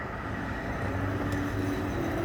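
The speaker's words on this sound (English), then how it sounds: "The train in the distance" A train rumbles steadily in the distance, a continuous low, even roar with faint rail hum, with no voices over it.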